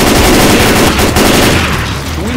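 Gunfire from Left 4 Dead 2 rattles loudly and continuously in fast overlapping bursts, close and dense, easing slightly near the end.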